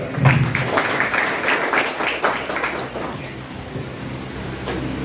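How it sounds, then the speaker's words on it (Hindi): A seated crowd at a spiritual gathering applauds, many hands clapping in a sustained, even patter that eases slightly midway. Faint voices and room noise sit beneath it. "इसलिए अपने लिए ताली बजाओ"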